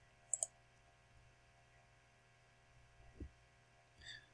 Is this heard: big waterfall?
no